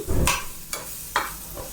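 A spatula stirs a pear stir-fry in a pan with cumin powder, salt and onion, giving four distinct scraping strokes close up with brief pauses between them and a soft sizzle underneath.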